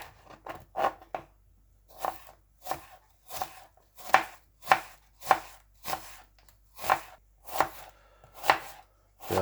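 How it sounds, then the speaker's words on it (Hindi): Onions chopped with a knife on a board for lamb karahi, a steady series of sharp crisp thuds, about a dozen close-up strikes in an uneven rhythm with brief pauses. "सबसे पहले हम प्याज काट लेंगे।"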